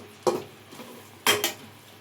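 Semolina being stirred and fried in a pan with a spatula, heard as a few distinct scraping clinks against the metal, spaced out and fairly close, with a faint sizzle between strokes.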